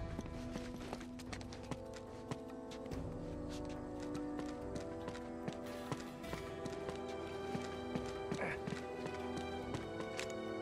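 Rhythmic clip-clop of horse hooves at a steady trot, layered over a busy tonal game soundscape in Uncharted 2: Among Thieves.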